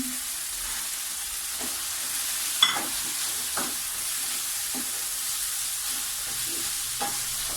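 Peas and chicken sizzle together in a pan, a steady close frying hiss broken by intermittent scrapes and knocks of a spoon stirring through them.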